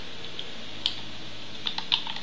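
Typing a paragraph on a computer keyboard while writing a Blogger blog post: a few sparse, faint key clicks spread irregularly over a quiet background hum, close and soft, no speech.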